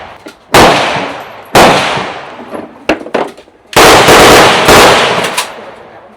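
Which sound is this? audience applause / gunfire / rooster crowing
gunfire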